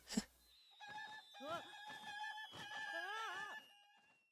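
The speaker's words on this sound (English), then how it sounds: "She also has a guard chickens." Chickens in the Zelda: Tears of the Kingdom video game crow and cluck in a string of warbling calls, several overlapping cries with wavering pitch, fairly close and clear after a brief opening click.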